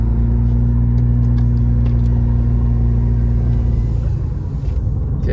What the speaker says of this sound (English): we're driving through Papoose Bay